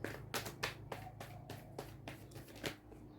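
Tarot cards shuffled by hand and drawn from the deck, with a string of crisp riffling bursts and soft flicks at a close distance, quiet and free of talk.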